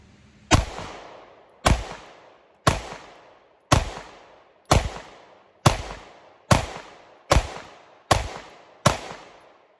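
CZ P10S subcompact pistol fired at 10 yards on a range: ten loud, sharp reports in a steady rhythm roughly one second apart, each with a brief ringing decay and no voices.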